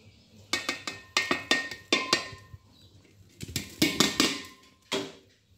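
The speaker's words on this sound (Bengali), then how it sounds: "এই পাতিলার ভিতরে এখান থেকে অর্ধেকটা ফিট আমি ঢেলে দিই" Animal feed is poured into a metal pot on a farm, giving clusters of sharp, ringing metallic clinks in two bursts separated by a brief pause, close and fairly loud.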